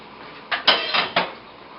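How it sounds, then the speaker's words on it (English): A pot of clear chicken broth is set back onto a stovetop with a few close metallic clunks and a short scrape, each one quick and distinct, and no one talks. "we're going to put that back on the stove"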